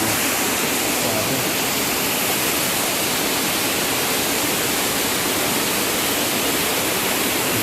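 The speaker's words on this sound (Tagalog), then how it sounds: "Ang lakas ng tubig eh yun." Powerful rushing water at Hidden Falls, a dense, continuous, loud roar of a waterfall filling the whole clip with steady broadband noise and no voices.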